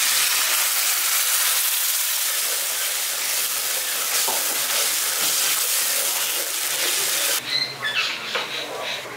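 Spice paste frying with onions in a pan for Bengali katla kalia, a loud continuous hiss and sizzle. It drops off sharply near the end into softer, uneven crackling.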